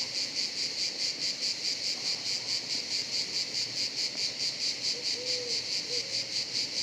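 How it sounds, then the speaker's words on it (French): Steady, continuous cricket chirping in a fast pulsing rhythm, fairly close and even throughout, with no other sounds. "nous allons bénéficier du chant des grillons pour quelques jours seulement"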